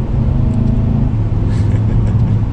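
A 2020 Mercedes-Benz CLA 250 sports sedan driving at speed, with a steady, loud low engine and road drone heard from inside the cabin, continuous and with no talking.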